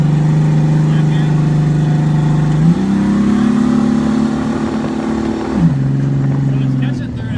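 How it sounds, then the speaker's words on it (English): A car engine with an automatic transmission that upshifts at high RPM, holding a loud steady drone that jumps in pitch near the shifts, with people talking over it. "So it's catching third at higher RPMs."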